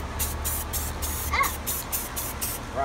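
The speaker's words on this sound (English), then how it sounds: "spray paint that with black" Short repeated hisses of an aerosol spray can painting an RC airplane black, several bursts in a quick uneven rhythm, close and loud, with faint background hum.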